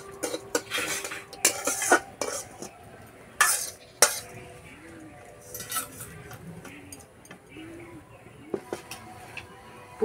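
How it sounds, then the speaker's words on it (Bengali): A spoon stirs sweet nimki filling with chopped almonds in a kadai. Close metallic scrapes and sharp clinks come in uneven bursts, with quieter stirring noises between them. "ভালো করে মিশিয়ে নেব"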